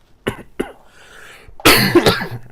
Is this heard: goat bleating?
no